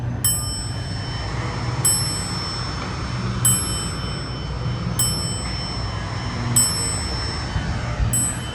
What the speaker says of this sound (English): And it literally keeps chiming too.